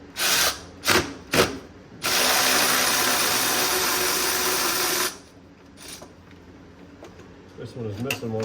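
A power ratchet or drill loosening 15 mm fan shroud bolts on a 6.0 Powerstroke engine during a water pump replacement: three short bursts, then a sustained three-second whir, then quieter clicks, with someone talking.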